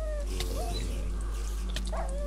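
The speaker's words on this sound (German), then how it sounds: "Wölfe." Wolves in the Minecraft mob arena game yip and whimper in short, high dog-like cries, a few scattered calls over a steady low hum and game noise.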